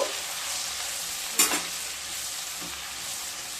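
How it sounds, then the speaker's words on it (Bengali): Cumin, coriander and ginger paste frying in a pan, a steady close sizzle with one sharp scrape of a spoon partway through and a softer stir later. "এক চামচ আদা বাটা দিয়ে খুব ভালোভাবে মিশিয়ে নেব"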